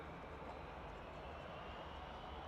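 A Jet2 Boeing 757 airliner taxis out at Manchester Airport, a faint, steady, distant engine rumble held throughout.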